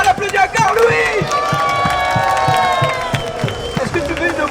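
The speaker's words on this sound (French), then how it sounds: "On applaudit encore Louis." At the Beyblade Burst national final at Japan Expo, an audience claps and cheers for the winner. The clapping is steady and dense, with whoops and shouts over it, and it thins out toward the end.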